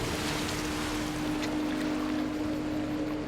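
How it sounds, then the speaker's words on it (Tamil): A constant, heavy rushing roar of water falling from above in the horror video game Outlast 2, with a steady low hum underneath and no breaks. "தண்ணி மேல இருந்து விழுந்த மாதிரி இருந்துச்சுல இல்லையா?"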